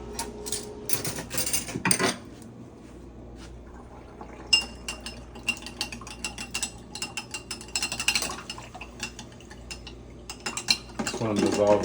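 A spoon stirs salt into warm water in a cup, with repeated small clinks and scrapes against the container in an irregular rhythm, close and fairly clear.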